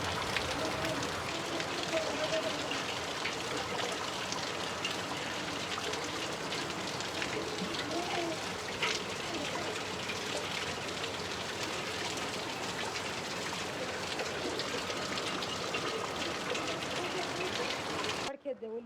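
Continuous heavy rain pours down in a dense, unbroken roar, with a voice talking beneath the downpour.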